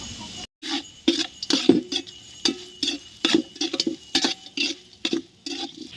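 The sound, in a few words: stirring onions frying in a pan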